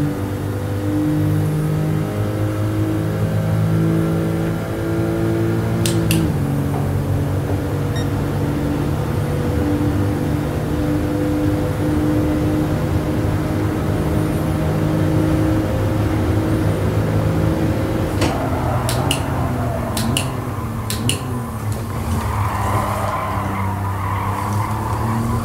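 A race car in Gran Turismo Sport holds a loud, steady engine drone with shifting harmonic pitch, then gear changes and sharp tire skids and squeals, the engine note wavering and sliding toward the end.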